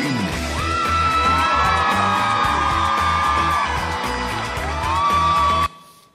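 Roaring crowd of around 10,000 people screaming and whooping at a fan event, a dense continuous wall of shrill cheers and yells over a thumping bass beat, loud and sustained before cutting off abruptly near the end.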